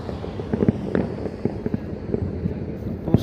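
Fireworks going off at a New Year celebration, a steady run of distant pops and bangs scattered over a busy crowd rumble, with one sharper burst near the end.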